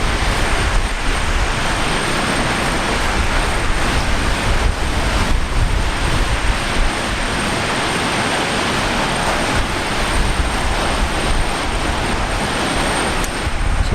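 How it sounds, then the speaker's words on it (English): Embraer E-Jet airliner arriving at Brisbane Airport: a loud, sustained jet roar that fills the whole stretch, with a steady high whine running over the broad rumble as the plane comes in. "So it looks like we've got an E-Jet, the next arrival,"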